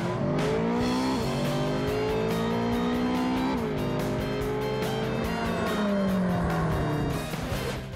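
A Ferrari California sports car accelerating hard after a launch-control start, its engine note climbing loud and continuous through rising gear pulls with brief dips at the shifts, close up and alone with no talk.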